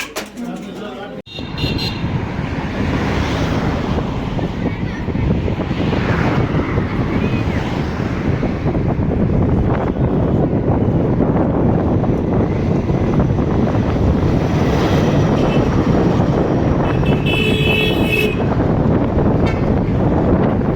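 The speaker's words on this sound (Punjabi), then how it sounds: "ਹਵਾ ਬਹੁਤ ਤੇਜ਼ ਚੱਲ ਪਈ ਆ" Strong wind roars nonstop into the microphone during a cycle tour near Leh, Ladakh, a loud, steady buffeting rush that lasts the whole time.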